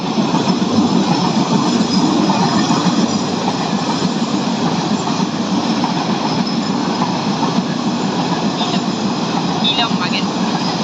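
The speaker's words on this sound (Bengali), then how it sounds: "দর্শক ভালো করে দেখুন ট্রেনটি শেষ হতে অনেক লম্বা ট্রেন" A very long train rolls past close by, a steady loud rumble of rail wagons with wheel clatter and faint squeals running on without a break.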